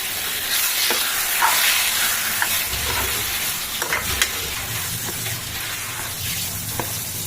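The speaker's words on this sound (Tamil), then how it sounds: "கொஞ்ச நேரம் இந்த எண்ணெயிலேயே அதுவும் நல்லா வதங்கட்டும், வேகட்டும்" Prawns sizzle and fry in hot oil in a pan, a dense steady hiss broken by scraping stirs of a spoon, close and continuous throughout.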